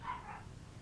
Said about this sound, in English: You'll have to pardon the dogs for barking.